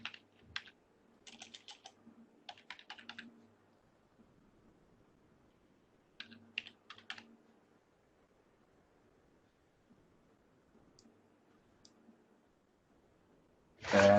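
Password being typed on a computer keyboard, heard as short bursts of quiet key clicks separated by pauses, with a louder thump at the very end.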